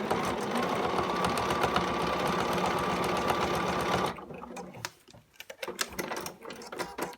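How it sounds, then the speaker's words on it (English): A sewing machine stitches a bar tack on a denim jeans front zipper, whirring rapidly and steadily for about four seconds before stopping, followed by soft handling clicks and rustles. "Opposite the stop, I'm gonna stitch a bar tack in."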